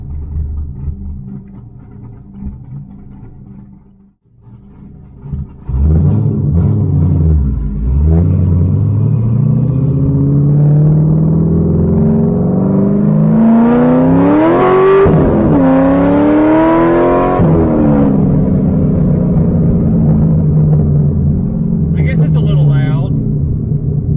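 A built Z06 with new heads, cam, intake and exhaust accelerates hard in a pull with the windows down, the engine note climbing steeply through the gears, loud and close, with some talk at the start.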